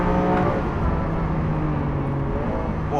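A 740bhp Lamborghini Aventador SV revs hard in fourth gear on a race track, a loud, continuous engine drone with a steadily climbing whine and rich harmonic buzz heard from inside the car.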